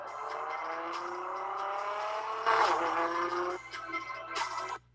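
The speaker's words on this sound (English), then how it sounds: "that car is unbelievably loud" A very loud car drives past, engine roaring steadily and then surging as it goes by, with a brief pause and a final burst before cutting off.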